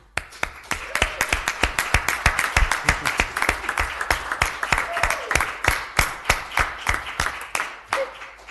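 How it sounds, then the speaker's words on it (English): A modest group claps at a school board meeting, with distinct individual hand claps ringing out in a loose, fairly even rhythm that is clear and close with no talk over it. "just a huge round of applause for everyone for that, please"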